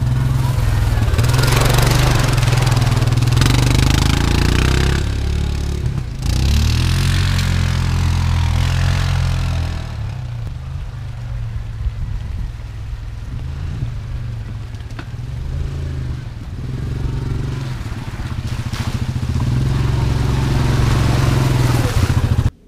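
Yamaha Grizzly 700 ATV engine on a trail ride, a loud steady low thrum with revving surges and easing off to a softer idle mid-way before climbing again, close to the microphone.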